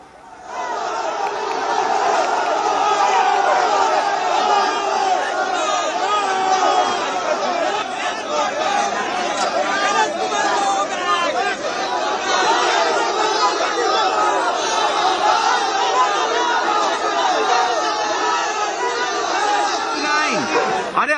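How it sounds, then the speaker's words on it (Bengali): A large protest crowd in West Bengal shouts "go back" slogans and chatters loudly, with dense, continuous voices and babble that hold steady throughout at close range. "তারপরে তাকে গো ব্যাক স্লোগান দেওয়া হয়"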